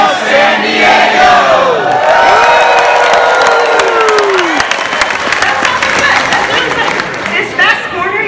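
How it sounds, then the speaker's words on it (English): A crowd loudly chanting and cheering in unison at the Macna San Diego rally, shouts rising and falling with scattered claps and whoops throughout. "And just keep cheering, all right?"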